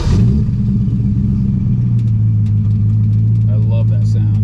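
A car engine on a C2 Stingray all-tube split window chassis rumbles loudly and steadily during a short test drive, a deep close drone with faint clicks and rattles over it.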